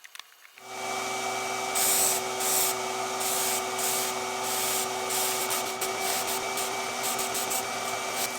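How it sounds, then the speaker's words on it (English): A paint spray gun coating a metal timpani suspension hoop hisses continuously after a brief quiet start, a steady, close airy spray with faint fluttering variations. "So I'll spray the top, flip it over, spray the bottom"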